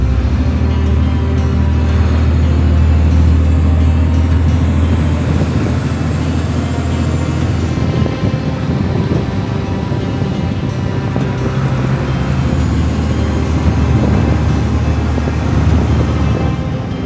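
A car driving through busy streets in Morocco near Chefchaouen, a loud, steady engine and road rumble from inside the vehicle, continuous throughout with no talk.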